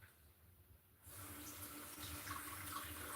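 Potatoes are rinsed under a kitchen tap; after a quiet second the water suddenly rushes on and runs steadily, splashing softly and close by.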